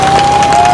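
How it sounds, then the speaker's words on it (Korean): Crowd applause at an outdoor election campaign rally in Jincheon-Eumseong, South Korea, a loud, dense burst of clapping and cheering that is heard briefly, with a steady tone running underneath it. "뜨거운 박수로 맞이해주시면 감사하겠습니다."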